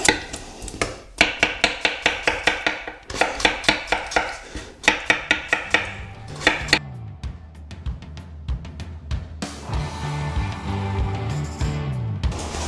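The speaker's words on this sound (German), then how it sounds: "Und wir halbieren einmal die Kartoffeln und schneiden das Ganze dann einfach in kontinuierliche Scheibchen" A knife slices halved potatoes into thin slices on a cutting board, a fast run of sharp, regular chopping knocks, close and loud, followed by clattering and scraping of the cut pieces.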